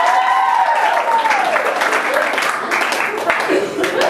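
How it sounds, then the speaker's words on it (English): A round of applause from a talent show audience, loud dense clapping mixed with cheers and a voice rising over it, continuing steadily to the end. "Round of applause, please."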